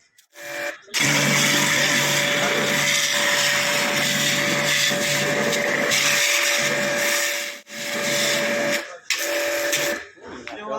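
A loud high-pressure washer pump drones continuously, cuts out briefly twice near the end, then starts up again.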